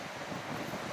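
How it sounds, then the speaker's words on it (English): Roaring tropical storm wind and crashing waves on Prince Edward Island, Canada, a continuous dense wash of surf and gusting wind noise across the whole moment, loud and steady with no break. "so the winds, the waves, everything."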